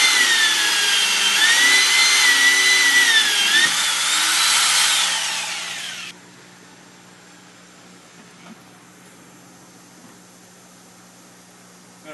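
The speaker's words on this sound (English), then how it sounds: "Should use a really sharp hole saw if you can." A power drill fitted with a hole saw cuts into a plastic fertilizer tank for a methane biodigester, a loud steady grinding whine with shifting pitch for about six seconds before stopping abruptly, leaving quiet room tone.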